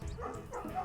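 Dog barking in the video game Night in the Woods, a few quick soft yips and woofs in under a second, faint and close, no speech.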